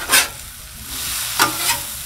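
Butter sizzling on a 22-inch Blackstone griddle with NY strip steaks, a steady close hiss punctuated by a few brisk scraping clicks of a spatula on the flat top.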